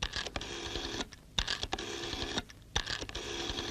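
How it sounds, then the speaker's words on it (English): A 1970s telephone being dialed, a steady rattling mechanical whir broken into several bursts by brief pauses, close and fairly quiet, with no voices. "Make for the nearest telephone, dial,"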